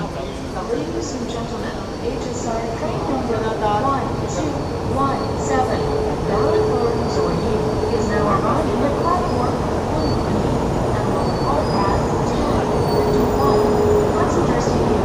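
A train pulls into a station in Taiwan with a steady, loud rumble and a faint squeal of wheels, while people talk nearby.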